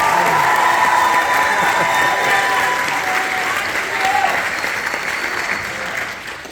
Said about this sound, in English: How about one more round of applause for our amazing narrator,